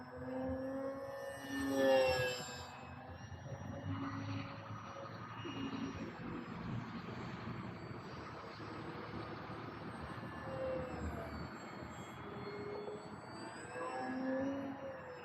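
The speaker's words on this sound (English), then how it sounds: "It's just excellent behaving RC airplane." A Durafly Prime Tundra RC airplane flies steep climbs and tight maneuvers, its motor a steady buzzing drone whose pitch rises and falls as it swoops past, moderately close throughout.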